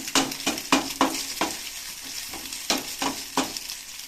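Egg noodles being sautéed in a pan: a steady oily sizzle broken by repeated sharp scraping and stirring strokes at an irregular rhythm, close and fairly loud, with no talking.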